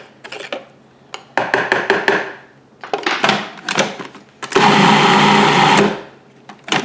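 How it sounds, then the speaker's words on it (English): A food processor grinds chickpea salad ingredients toward a powdery texture in short, loud pulses, ending in one longer continuous whir. "I'm going to process it until it's kind of powdery"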